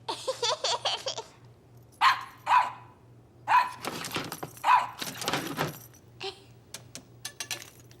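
A small dog barks in several sharp, separate yaps, fairly close, with a short burst of voice or laughter at the start and light clatter between barks.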